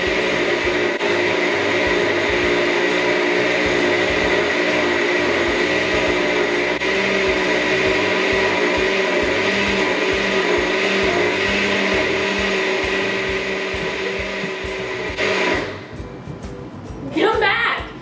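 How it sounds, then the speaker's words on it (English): A blender runs continuously, whirring at high speed as it purées vegan pumpkin pie filling, loud and steady for about fifteen seconds before it winds down and stops. "We're just gonna pop the top on the blender. Pop the top. And blend it all up."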